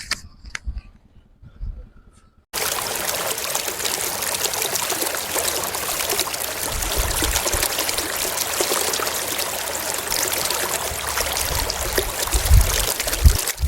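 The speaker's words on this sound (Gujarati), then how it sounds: "અંદર પાણી અત્યારે હાલ જે પુલ ગેટ નીચેથી આવી રહ્યું છે" Canal water rushes in from under a gate in the Bhabhar, Vav and Suigam area of Gujarat. After a quiet opening it becomes a steady, loud, broad gushing flow that carries on without talk.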